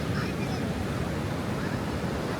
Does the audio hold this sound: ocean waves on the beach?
yes